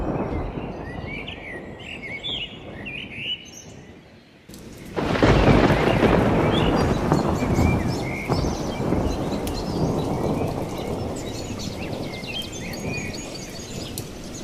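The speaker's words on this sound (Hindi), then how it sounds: "अचानक से मूसलाधार बरसात शुरू हो जाती है" Sudden torrential downpour with thunder: faint birdsong over soft rain gives way to a loud, dense roar of heavy rain with a deep rumble of thunder, sustained and close with no voices.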